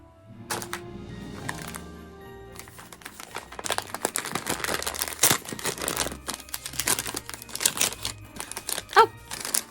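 Wrapping paper crinkles and tears repeatedly as a Christmas gift is unwrapped, a close, busy run of crackling rustles and rips that grows denser and louder over several seconds.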